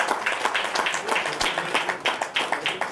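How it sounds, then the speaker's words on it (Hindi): Dense, steady applause from an audience at a ghazal album launch as the singer is invited onto the stage, many hands clapping continuously and fairly close, with no pause. "जोरदार तालियां"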